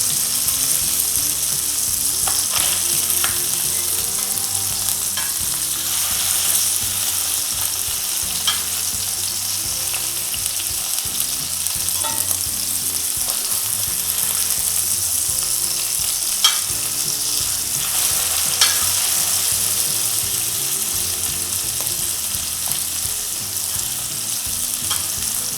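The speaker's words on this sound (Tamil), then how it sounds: "இப்போ வந்து நம்ம இந்த மீனை திருப்பி போட்டுடலாம்." Fish sizzles and crackles steadily in hot oil in a pan after being flipped, a dense, continuous frying hiss with occasional scraping and clicking, close and loud with no talking.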